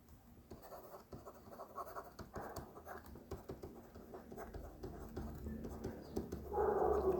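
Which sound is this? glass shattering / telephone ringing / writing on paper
writing on paper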